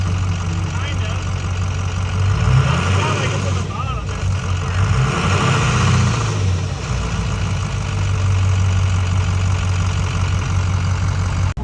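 A 6-liter diesel truck engine idles steadily with a deep, continuous rumble that swells slightly mid-way, loud and close throughout, with voices talking over it.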